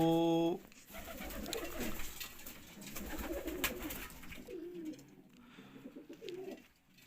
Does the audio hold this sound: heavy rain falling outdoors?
no